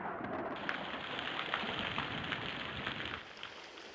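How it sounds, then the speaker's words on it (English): Pouring rain hisses down steadily with scattered heavier drops tapping close by, a dense even wash that thins slightly toward the end. "Oh, it's pouring rain."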